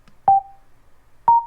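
Two short electronic beep tones from a Cardo Packtalk Pro motorcycle intercom when phone pairing is cancelled, evenly spaced about a second apart, each a clean mid-pitched chirp that fades quickly, clear and alone.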